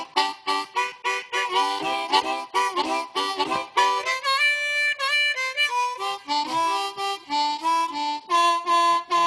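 A blues song plays, with a bright harmonica-like melody of short, pulsing phrases and a few longer held notes, steady and fairly loud throughout, with no talking over it.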